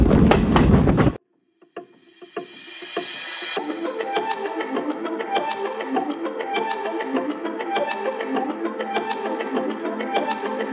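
After a brief burst of noise and a short silence, a Sri Lankan train on the Ella to Nuwara Eliya line rolls steadily with a rhythmic clickety-clack of wheels on rails, heard from inside a general coach.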